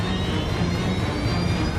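A KLM airliner's engines roar at full power as it races down the runway at nearly 200 miles an hour, a steady, dense rumble with no let-up.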